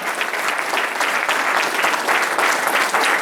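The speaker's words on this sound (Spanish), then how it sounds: "Apláudale al Señor, mi hermano, apláudale." A church congregation applauds the Lord together, a dense, steady wash of clapping from many hands that fills the room without a break.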